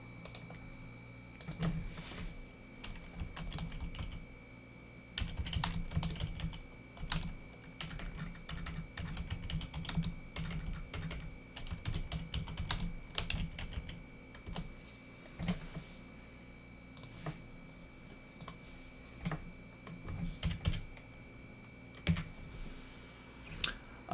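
Typing on a computer keyboard to rename a sketch: steady, close clicking of keys in quick irregular bursts with brief pauses, alone and moderately loud.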